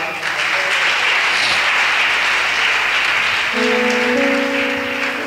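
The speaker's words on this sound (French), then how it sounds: "Is it a good place to clap?" A church congregation applauds steadily through a service, a dense, continuous wash of clapping, with a few voices and sustained tones rising in the background near the end.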